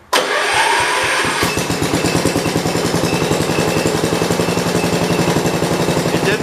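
A John Deere 112 round-fender lawn tractor cranks and catches within a second, then settles into a loud, close, steady chugging run with rapid regular engine pulses and no talk.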